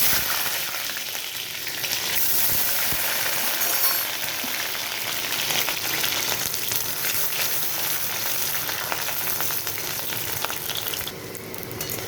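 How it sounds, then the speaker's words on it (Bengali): Chopped onion and dried red chillies fry in hot mustard oil in a kadai, giving a loud, continuous close-up sizzle with faint crackles throughout and no talking. "এখানে দিয়ে দিচ্ছি কুচানো পেঁয়াজ"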